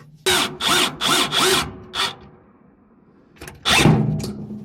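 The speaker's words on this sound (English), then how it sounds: "I'm going to put self-tapping screws down into here so that that way it is fastened in" A power drill driving self-tapping screws while fitting a heater kit on a 7.3 diesel, heard as four quick whirring bursts, a short fifth, then a pause and a final longer run, loud and close with no talk.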